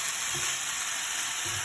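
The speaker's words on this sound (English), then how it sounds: "You can hear it frying now." Rice frying in a pan with onions and a touch of soy sauce, giving a close, dense, steady sizzle with faint stirring bumps throughout.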